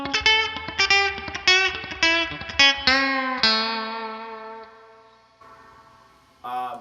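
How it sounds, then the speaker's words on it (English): A twangy chicken-picking electric guitar lick played in short, muted staccato plucks, moving into a few ringing notes that decay, then one final bright pluck. "I tend to associate the sound of chicken picking with muted strings"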